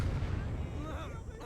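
A grenade explosion in the World War II game Gates of Hell lands as a brief, heavy rumbling boom that fades into a low decaying rumble.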